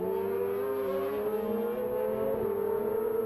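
A racing sidecar outfit roars away from the start line of a road race, its engine note climbing steadily as it accelerates. The noise is strong and continuous, with no voices over it.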